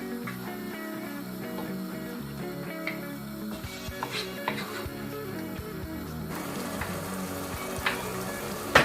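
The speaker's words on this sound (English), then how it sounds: "Yeah, the meat is in the fire. I'm still turning it." Meat for Nigerian meat pie filling frying in a hot pan, a steady broadband sizzle with scattered crackles and occasional scraping clicks as the pieces are turned, close and continuous with no talk.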